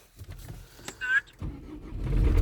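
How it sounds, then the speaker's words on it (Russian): A car engine cranks and catches on a cold winter morning at minus eight degrees, brief whirs and clicks before a low rumbling start near the end, with a person speaking quietly alongside. "Заводися. Ну, маю завестись."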